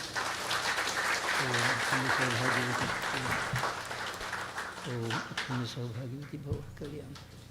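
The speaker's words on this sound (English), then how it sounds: "Give them a round of applause, please." An audience at a Ganesh Utsav celebration night applauds in a steady wash of clapping, with voices and chatter mixed in and the clapping gradually thinning toward the end.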